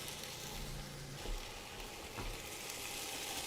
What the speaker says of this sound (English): We're going to go ahead and add our vegetables next.